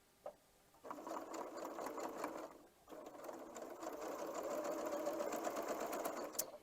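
A home sewing machine stitching light and dark fabric squares into four-patch quilt units, a steady mechanical whir that starts after a click, pauses briefly, then runs again close by.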